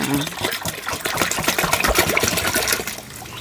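Clean water splashing and gurgling as it is poured into a container while making homemade dishwashing liquid, a busy continuous pour with someone talking over it.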